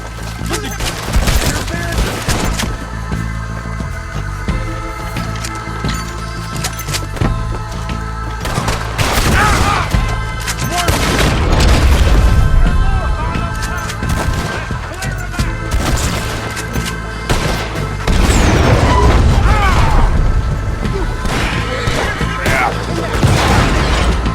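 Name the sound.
gunfire in Red Dead Redemption 2 video game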